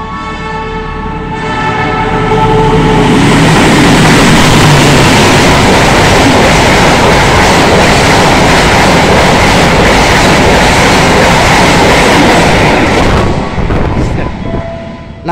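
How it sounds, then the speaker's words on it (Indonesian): A passenger train, the Purwojaya, roars through Horgelis station in Indonesia at high speed, a loud continuous rumble and clatter of wheels building quickly and holding steady before easing off near the end. "Nah itu tadi kereta api Purwojaya sudah melintas stasiun Horgelis dan menyusul kereta api Progo."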